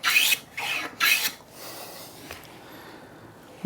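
A hand plane squares a piece of timber in two quick, bright hissing strokes close by, followed by quieter shuffling handling noise.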